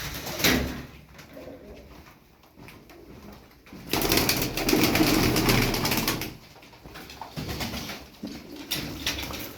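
Pigeons coo in low, soft, repeated calls close by, with rustling and shuffling in between and no talking.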